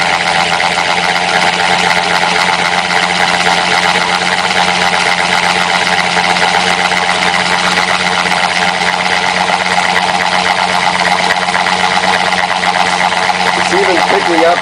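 A spinning turbine with a magnetic ball rotating on it gives a steady, loud mechanical whir and hum with constant vibration, running throughout with talk over it.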